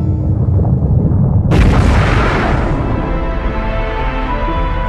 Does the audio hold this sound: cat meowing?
no